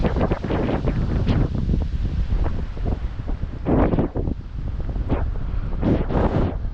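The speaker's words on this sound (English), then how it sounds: "Very windy today, folks." Strong wind buffets the microphone continuously, roaring and rumbling with louder gusts surging now and then.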